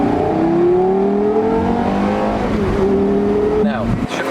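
A Porsche Carrera GT sports car revs loudly up through the gears, its engine tone climbing steadily, dropping at a shift and climbing again, heard close from inside the car.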